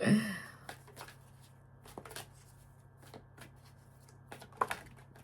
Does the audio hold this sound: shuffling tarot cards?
yes